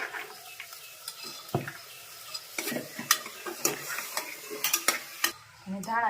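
Green chickpeas are tipped into a pan and stirred, with irregular metal scrapes and clinks from a spoon against the pan over a soft frying sizzle, close by and without speech.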